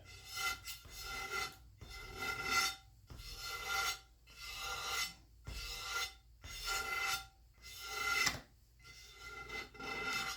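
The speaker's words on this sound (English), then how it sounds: "It's just scraping off the crud and rust off the outside." Rust and grime being scraped off the outside of a Stanley Bailey No. 7 hand plane, about eight rhythmic rasping strokes separated by short pauses, close and loud with no talking.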